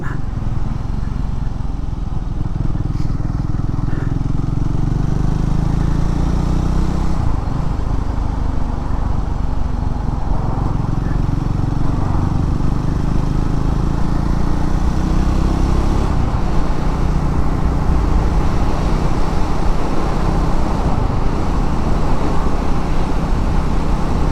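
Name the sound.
motorcycle being ridden on the road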